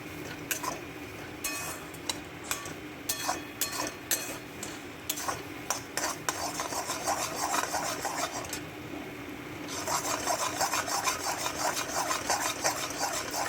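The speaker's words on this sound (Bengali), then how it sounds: "তো দেখছো আমি তো অনবরত নেড়ে চলেছি।" Pointed gourd and shrimp mash stirred continuously in a pan, a rhythmic series of scraping and rubbing strokes of a utensil against the pan, close and fairly loud, growing denser and more constant toward the end, with no talk.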